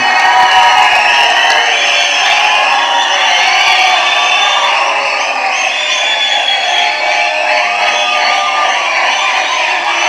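Audience at a film audio launch cheering and shouting for hero Soori, a loud sustained roar of many voices with whoops, continuous throughout.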